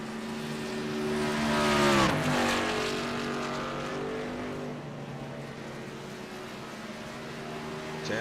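Race trucks at Watkins Glen circuit roar past, engines rising in pitch as one approaches and dropping sharply as it passes close by, then a steady droning whine of engines circulating, with no talk.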